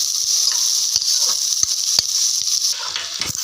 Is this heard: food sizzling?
yes